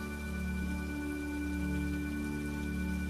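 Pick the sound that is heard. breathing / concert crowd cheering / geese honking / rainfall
rainfall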